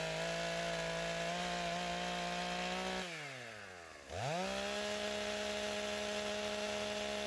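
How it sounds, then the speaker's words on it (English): A chainsaw cuts down a dead pine tree snapped off about four feet up, the engine droning steadily before bogging down sharply in the wood and then revving back up to a high whine, close and loud throughout. "This is a dead tree that's broken off about 4 feet up, so I'm going to go ahead and get it cut down."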